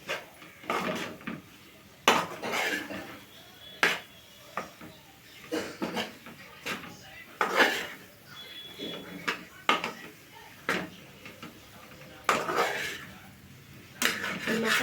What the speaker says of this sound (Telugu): ఒక టూ టేబుల్ స్పూన్ మసాలా పొడి ఇప్పుడు మనం కలుపుకుందాం